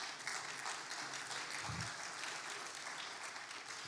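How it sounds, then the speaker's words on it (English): A church congregation claps for a family walking up to the front during a Sunday service: steady, even applause from a crowd in a large room, with a brief low thump partway through. "You guys walked up the stairs and they clapped for you."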